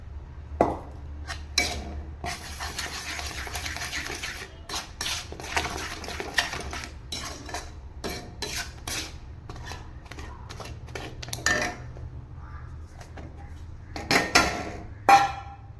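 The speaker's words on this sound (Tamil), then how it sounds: "இந்த மாதிரி சேர்த்துட்டு கட்டி இல்லாமல் கிளறிக்கணும்" A utensil stirs black gram flour into melted jaggery syrup in a metal pan while making laddu, producing repeated scraping and clinking strokes against the pan, close and irregular, with no speech.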